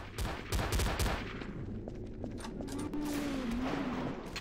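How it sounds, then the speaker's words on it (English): Gunfire in the Garry's Mod video game, a volley of rapid shots close by in the first second, then a steady murky rumble of more distant shooting with a faint whining tone running under it. "I hear people shooting"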